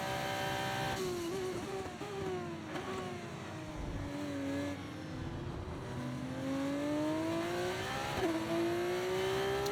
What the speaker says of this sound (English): I love the sound of the backfire as well on the downshifts.